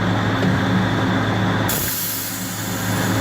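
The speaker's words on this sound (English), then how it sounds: "Then you hear the whoosh of the gas coming in after the block valve." Gas rushes into an industrial turbine after the block valve opens, a loud continuous broadband hiss that changes character and eases slightly partway through, with no talk over it.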